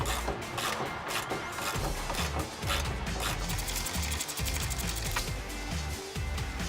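A ratchet backs a bolt out of a 2009-2014 Ford F150 rear bumper mount, quick steady clicking strokes repeated throughout, close and fairly quiet with clanking metal in between.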